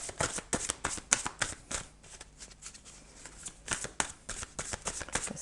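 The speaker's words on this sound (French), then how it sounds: "Je vais continuer, hop, à tirer quelques cartes." Playing cards drawn from a pile, a close series of quick dry slides and flicks in an irregular rhythm, quiet and alone.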